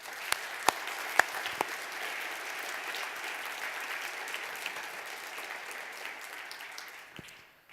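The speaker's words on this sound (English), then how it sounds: "So can I have your big applause for them?" Steady audience applause for conference speakers and country delegations at a Nordic digital agenda event, a dense even patter with a few sharper claps standing out, fading at the end.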